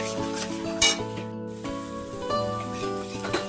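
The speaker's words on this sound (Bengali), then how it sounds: "এবার আমার মশলাটা কষানো হয়ে গেছে," Spice masala of salt, coriander and cumin powder sautés in a pan for Rui fish with mustard and poppy seeds, a close sizzle mixed with spoon scraping and stirring scrapes, with a brief sharp clatter near the start.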